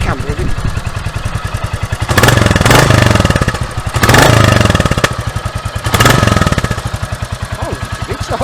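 A new Royal Enfield Classic 350 motorcycle idles close by with a steady single-cylinder thump, its engine swelling three times in brief throttle blips before settling back to idle.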